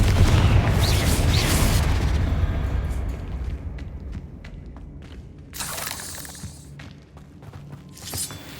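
A Confringo blasting spell explodes in the Hogwarts Legacy video game with a loud booming burst, and the rumble slowly fades over several seconds before shorter crackling blasts break out near the end.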